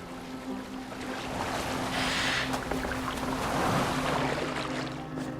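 Boat moving through water in Assassin's Creed Valhalla, a steady wash of water and wind with a low hum and a brief surge of spray, continuous and fairly loud, with no talk over it.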